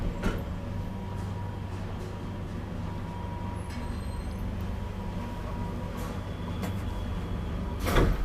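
An old Valmet-Schlieren traction elevator in a Lauttasaari, Helsinki building starts a ride with a steady low mechanical hum and drone, plus a few faint clunks and a louder knock near the end.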